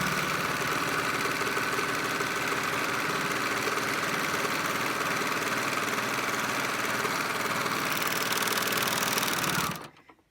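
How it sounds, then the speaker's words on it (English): A serger runs continuously for about ten seconds, finishing the edges of sheet fabric with a steady, fast mechanical whir at moderate volume before stopping abruptly. "I'm using a serger in a lot of different areas that I would normally use my machine"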